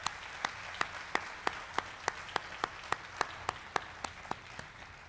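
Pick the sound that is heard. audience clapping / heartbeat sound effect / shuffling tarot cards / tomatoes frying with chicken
audience clapping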